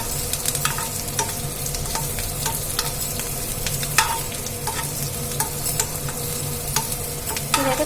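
Crushed garlic cloves fry in a little oil for a tamarind-based vaama chaaru, a steady soft sizzle with repeated sharp scraping clicks of a spoon stirring the pan, close and continuous without talk.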